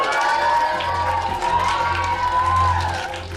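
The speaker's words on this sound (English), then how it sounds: "They're only cheering because they know they don't have to go" Schoolchildren cheer and shout together in a sustained, lively crowd roar that swells and dips over several seconds.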